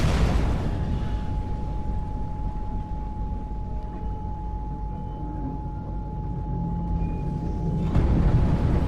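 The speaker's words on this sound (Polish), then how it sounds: "Jaki wielki wybuch w ogóle ty." A big explosion in Mirror's Edge Catalyst rolls into a long, steady roaring rumble that fills the space for several seconds, with a thin electronic tone humming throughout.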